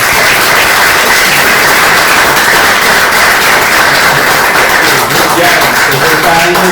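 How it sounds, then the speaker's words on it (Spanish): A university lecture audience claps steadily for a mountaineering club's guests, the applause loud, close and continuous, filling the room without a break. "Y un aplauso a los señores."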